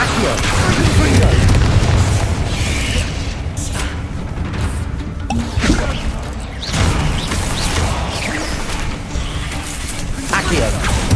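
Repeated booming spell blasts from the Confringo explosive curse in the Hogwarts Legacy video game, loud and dense, with several heavy bursts and impacts layered over continuous combat noise.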